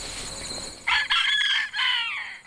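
A farm rooster crows nearby, one drawn-out, strident cock-a-doodle-doo in several rising and falling segments over faint background noise.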